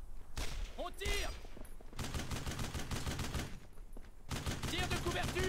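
A squad opening fire in Brothers in Arms: Road to Hill 30, a WWII game on PS2: rapid bursts of rifle and machine-gun fire in loud clusters, with someone shouting in between.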